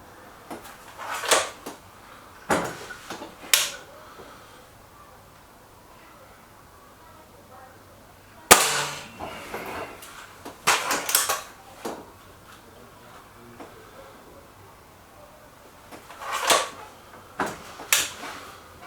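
A Stoger RX20 air rifle shooting JTS .22 pellets, one sharp crack amid intermittent clicks, clatters and handling knocks at close range, with quieter pauses between bursts of activity.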